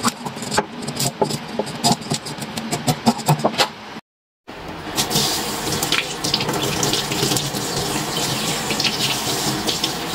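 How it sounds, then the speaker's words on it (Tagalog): Running tap water splashes steadily over a mudfish being washed in a sink, with a brief silent gap partway through before the flow resumes louder and continuous. "So, hugasan natin mabuti."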